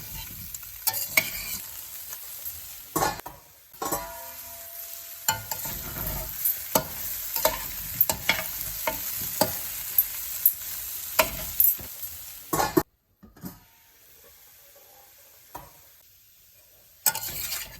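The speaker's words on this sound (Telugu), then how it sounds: "మీడియం ఫ్లేమ్లో పెట్టుకొని ఇలా తిప్పుతూ ఉండాలి అడుగంటకుండా" A spoon scrapes and stirs potato curry with green chilli paste in a pan over medium flame, giving irregular scraping strokes over a faint sizzle, followed by a short pause and then a final stroke.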